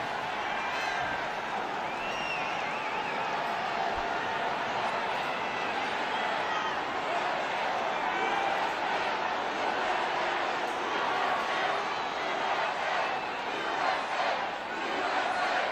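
A rally crowd chanting Trump's name, a dense continuous roar of many voices with a loose rhythmic pulse, heard at a distance and sustained throughout.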